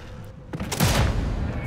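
A grenade bursts in the video game Sniper Elite 5: a brief quiet lead-in, then a sudden loud, rumbling blast with a crackling, gunfire-like tail that keeps sounding to the end.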